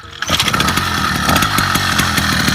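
The small engine of a motorized bicycle running on E20 fuel buzzes at a steady, loud, close idle with a fast regular firing pulse, starting abruptly after a brief moment of quiet.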